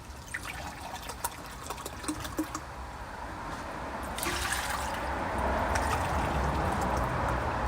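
Water is poured into a pot, starting as an uneven splashing trickle and settling into a fuller, steady gushing pour in the second half.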